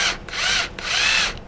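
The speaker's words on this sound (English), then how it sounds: "I'm going to set my drill into place" A power drill bores through metal to make a hole for a pop rivet, two whining bursts of drilling with a short pause between, close and loud, no speech.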